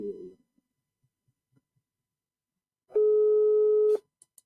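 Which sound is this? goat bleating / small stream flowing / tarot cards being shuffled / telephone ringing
telephone ringing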